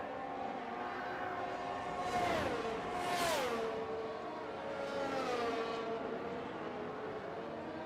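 McLaren and rival Formula 1 cars in a racing video game scream down the back straight, two loud high-revving engine passes sweeping by in close succession, followed by a fainter third car fading into steady engine drone.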